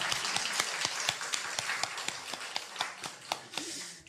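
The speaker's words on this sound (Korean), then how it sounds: "누가 지금이라고 박수 한번 해주세요" An audience in a church gathering gives a brief round of hand clapping, a spread of sharp claps at close to moderate distance that thins out toward the end, with faint voices underneath.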